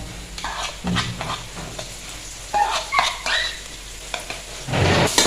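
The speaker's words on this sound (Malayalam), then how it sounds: "ഈ ഇഞ്ചിയും വെളുത്തുള്ളിയും ഒന്ന് വഴറ്റട്ടെ" Ginger, garlic and green chillies sauté in a pan, with soft sizzling under intermittent scraping and stirring clatter of a utensil against the pan.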